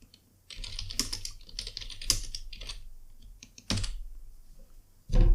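Someone types on a computer keyboard in irregular bursts of close, crisp clicks, with short pauses between runs and a harder key press near the end.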